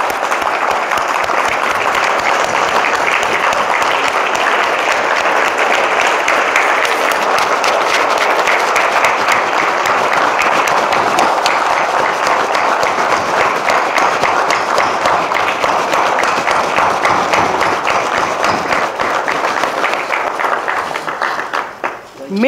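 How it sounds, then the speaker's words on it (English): A gala audience at a university foundation fundraiser stands and applauds, with dense, loud clapping sustained for over twenty seconds before tapering off at the end. "Let us stand and applaud this family"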